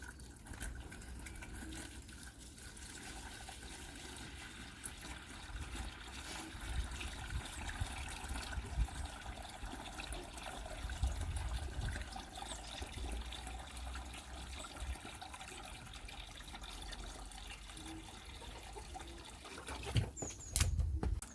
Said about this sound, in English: when your tub is in the ground, you're going to fill it up with some water.